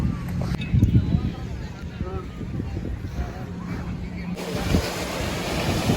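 Ocean waves wash around a floating bridge at a beach: a steady rushing surf with wind buffeting the microphone and people talking nearby the whole time.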